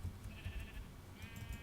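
Several short sheep bleats from a video game, a couple of separate nasal calls over a low, soft background rumble.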